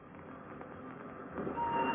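Radio-drama train effect: a steady low rumble and clatter of a moving train, continuous and moderately loud, swelling toward the end, with no talk over it.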